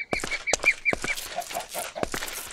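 Chickens clucking nearby in a rapid run of short, sharp calls that come in clusters over a couple of seconds, heard alone with no talking.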